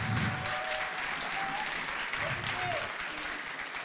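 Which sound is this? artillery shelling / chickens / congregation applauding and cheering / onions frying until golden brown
congregation applauding and cheering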